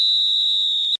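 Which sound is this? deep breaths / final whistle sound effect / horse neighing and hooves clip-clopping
final whistle sound effect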